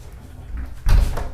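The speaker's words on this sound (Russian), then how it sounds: "Так, вот вторая дверь." The second door of a cedar log bathhouse opens with a soft creak and a firm wooden thud near the end, close and brief.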